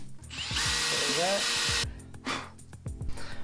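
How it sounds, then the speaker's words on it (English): A 4mm drill bit bores guide holes into plywood during a half-cabin boat restoration, the power drill whining loudly and steadily for over a second, then giving shorter bursts and bumps of handling noise. "I'm using like I think that's a 4mm drill"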